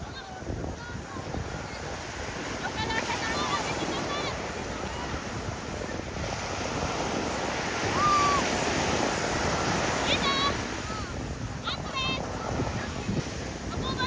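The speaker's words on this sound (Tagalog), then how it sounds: "Laki ng alon." Big ocean waves surge and roar around a banana boat ride at a beach resort, a loud continuous wash with wind buffeting the microphone and excited voices talking over it.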